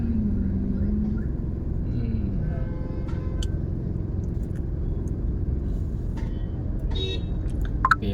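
Busy road traffic outside a biryani shop at night, a constant rumble of passing cars and motorbikes with occasional faint horn toots, close and dense throughout.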